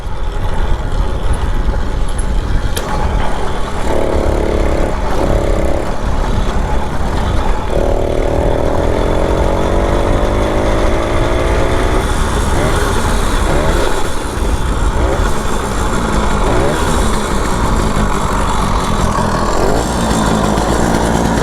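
Small 80cc two-stroke motorized bicycle engine fitted with a Dio reed valve kit and 24mm OKO carburetor, running loud and close throughout with buzzing pitch rises as it revs and pulls.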